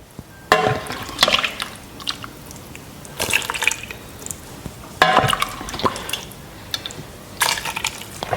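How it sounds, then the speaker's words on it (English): Leeks and garlic stirred into potatoes cooked in stock for a garlic soup: wet sloshing and spoon-scraping bursts recur every second or two at moderate loudness, with soft drips in between and no talk. "My potatoes are cooked in the stock, so now we'll mix them together."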